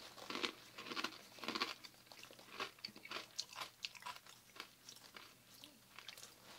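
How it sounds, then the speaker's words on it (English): Crunchy falafel being bitten and chewed close up, a steady run of crisp, crackly bites and munching that repeats for several seconds with no talking. "But it is a crunchy and most delicious treat. Falafel."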